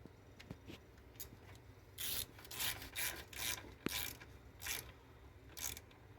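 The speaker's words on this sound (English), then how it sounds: "grab your ratchet like you normally do" Ratchet wrench clicks in short bursts while snugging the fuel injector bolts on a Ford Flex engine, several quick ratcheting runs close up with pauses between them and no talking.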